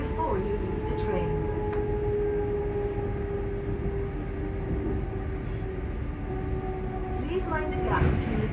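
ScotRail Class 385 electric train bound for Edinburgh, heard from inside as its traction motors whine in steady rising and falling tones over a constant rumble of running noise, with a brief chime-like sweep near the end.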